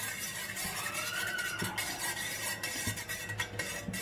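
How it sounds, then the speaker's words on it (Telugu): A spoon stirs powder into a glass of water, giving a steady scraping swirl with a few brighter clinks against the glass, close and continuous with no talk. "ఇప్పుడు స్పూన్ తో కలుపుకోండి"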